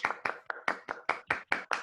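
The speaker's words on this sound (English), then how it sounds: "maybe we can all unmute ourselves and try to provide a bit of applause from home" Sparse clapping from a small video call audience heard from home, about nine distinct claps in a steady rhythm, faint and close with nothing else behind them.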